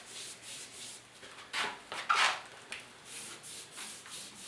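Cloth wiping satin finish across a plywood bookshelf, soft close rubbing strokes repeating in a loose rhythm, a couple of them firmer and louder.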